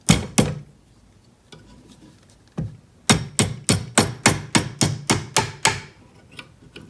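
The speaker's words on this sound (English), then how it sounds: "I'm actually going to hammer it this direction, the way I have my mandrel in that anvil" Sharp metallic hammer strikes on a wide band ring held on a mandrel in an anvil ring out, a few scattered blows followed by a quick steady run of about a dozen evenly spaced hits.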